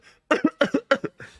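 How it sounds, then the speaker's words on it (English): Three quick pairs of close, sharp coughs in rapid succession, followed by a fainter trailing cough, with no talking. "I was coughing."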